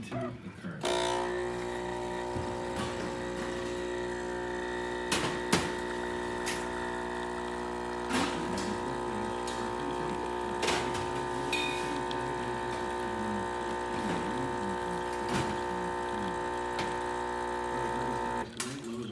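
A steady mechanical pump hum from a De'Longhi Magnifica espresso machine with a bad flow fault runs throughout, with a constant drone and occasional clicks as hot water flows.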